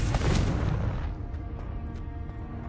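A Confringo fire spell explosion in Hogwarts Legacy hits with a loud booming blast at the start, then decays into a rumbling, crackling tail that slowly fades, with no voices.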